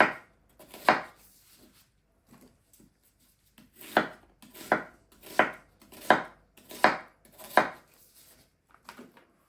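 Onion chopped with a knife on a board, a run of about a dozen crisp, evenly spaced thuds and cuts, close and clear, with quiet pauses between strokes.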